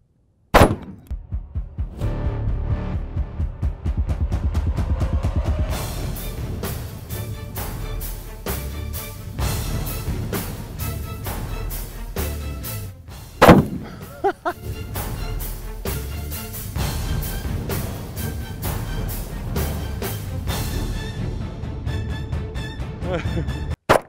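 Real firearms matching those used in PUBG fire a series of sharp, loud shots, some single and some in quick bursts, with a short pause midway; a voice talks between shots.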